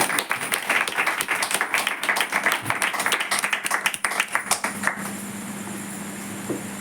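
A church congregation claps together during a Hindi-language sermon, dense overlapping hand claps for about five seconds, then thinning out into quieter room tone.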